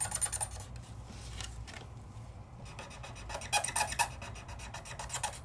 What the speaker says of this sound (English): And all that noise is the stubby against my paper.